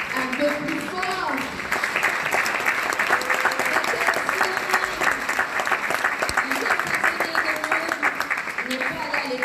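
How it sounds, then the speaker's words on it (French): Crowd applause at a Cameroonian chiefdoms parade in Paris, a loud continuous wash of clapping that swells after a moment, with background music and murmuring voices beneath. "Mesdames et messieurs, je crois que ça mérite des applaudissements."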